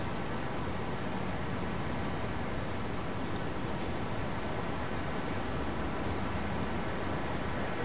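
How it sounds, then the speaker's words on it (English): A strong breeze blows steadily through a town, making a continuous, even rushing hiss with no breaks or distinct events, fairly loud and close throughout. "The town is noisy with a strong breeze and the workmen next door."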